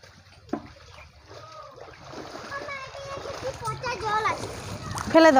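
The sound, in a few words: small fish splashing in water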